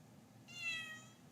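A cat gives a single short meow, close and fairly clear against a low steady background hum, with no talking over it.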